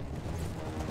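A horse gallops in a medieval combat video game, a dense continuous clatter of hooves under loud battle noise.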